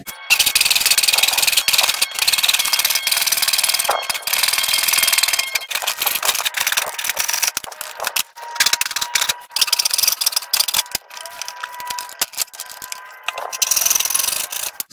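Hand saw cutting through a wood piece clamped firmly down, loud rasping strokes in repeated bursts with brief pauses between them, close up with no talking.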